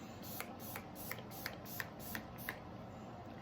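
Setting spray from a makeup mister, used as a primer, gives a run of about eight quick soft hissing pumps at an even rhythm, close and fairly quiet, over steady background noise.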